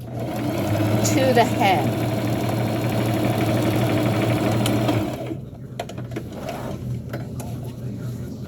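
Sewing machine stitching a burial gown runs steadily and close for about five seconds, then stops, with someone talking over it and continuing after it falls quiet.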